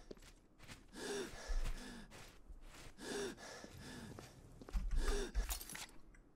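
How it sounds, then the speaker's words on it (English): A character in the Oblivion video game gasps for air, three heavy rhythmic gasp-and-exhale cycles with rough rasping breaths between them, close and fairly loud, with no talk over them. "He's gasping for air."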